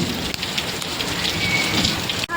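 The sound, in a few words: heavy rain falling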